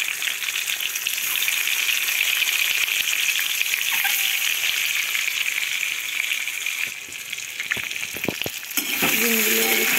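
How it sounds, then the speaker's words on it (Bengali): Eggs coated with turmeric and salt fry in a pan, giving a steady, loud sizzle and crackle with a few brief clinks near the end. "এবার ডিম ভাজবো।"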